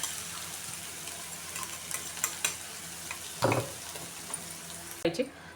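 Ground spice paste dropped into hot oil with roasted cumin and mustard seeds for a bitter gourd dish, giving a soft sizzle, a sudden burst as the paste hits the pan, then stirring clatters.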